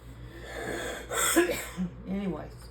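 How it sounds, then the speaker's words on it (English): A person coughs a couple of times up close, short harsh bursts with throat-clearing sounds, in a quiet room with faint low hum. "pardon the coughing"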